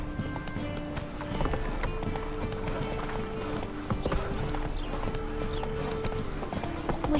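Roach, the horse in The Witcher 3, gallops on hooves that clip-clop in a steady rhythm under a busy town crowd. Voices and background game sound carry on throughout.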